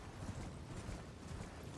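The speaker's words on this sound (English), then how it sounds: "Black Knight on a horse." Horse hooves clip-clop steadily at a trot in Elden Ring, a continuous rumbling clatter of hoofbeats with no voices.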